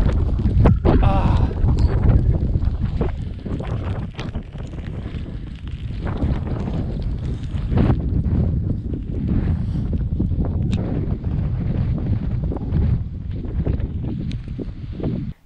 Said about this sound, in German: Der Wind geht so auf die Nerven.